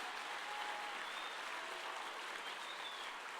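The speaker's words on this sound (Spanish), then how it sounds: "Vamos, sigue aplaudiendo, sigue gritando." A church congregation claps and shouts in a steady, dense wash of applause that holds evenly throughout, heard from a moderate distance without any distinct spoken words.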